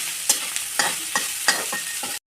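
Bitter gourd frying uncovered in a pan for an onion fry, stirred in a run of short scraping strokes, roughly six distinct scrapes over a steady close sizzle, no voices.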